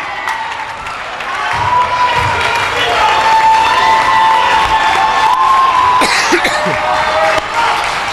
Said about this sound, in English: Listen to this Kennedy crowd, they are clapping.